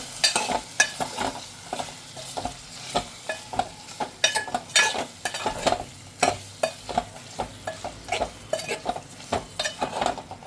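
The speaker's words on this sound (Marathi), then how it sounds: "आता हे छान परत परतून घ्यायचंय." Prawns and potatoes for a spicy Konkani-style curry are stirred in a hot pan, with a metal spoon scraping and clinking in an uneven rhythm over a steady sizzle, close and without talk.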